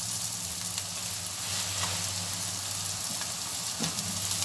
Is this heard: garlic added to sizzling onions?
yes